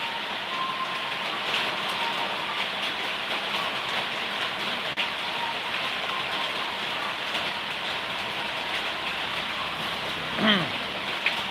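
Heavy rain pours steadily as a broad, even hiss throughout, close and constant, with a brief louder thump near the end.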